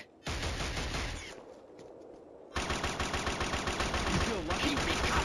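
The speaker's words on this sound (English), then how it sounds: "Keep me covered! Keep shooting! Good shooting." Rapid automatic gunfire from the Killzone shooter on PS3, dense bursts of machine-gun fire that pause briefly, then resume louder and sustained in a fast, continuous rattle.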